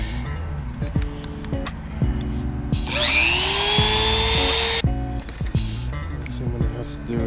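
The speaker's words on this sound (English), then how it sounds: "I'm gonna grab my Dremel with a sanding wheel on it, and I'm just gonna sand down these corners" A Dremel fitted with a sanding wheel grinds the corners of a billet grille on a 2005–09 Mustang GT, with a loud high whine lasting about two seconds amid background music.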